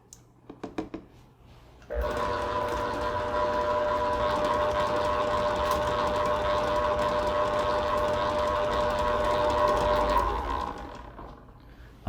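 A few light taps, then an electric mixer whirs in a steady, even motor drone for about eight seconds while beating eggs into cake batter, before winding down.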